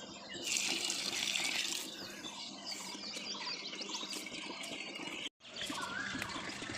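Water pours and splashes steadily while plants are watered on a rooftop, close and continuous with a brief break near the end, and birds chirp faintly in the background.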